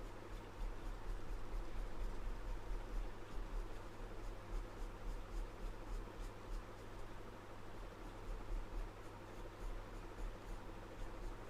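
Pencil colouring on textured paper, a continuous close scratchy rustle of repeated strokes with a soft steady rhythm throughout, no voices.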